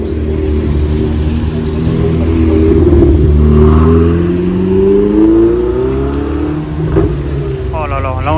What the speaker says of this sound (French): Oh là là là là, le V12.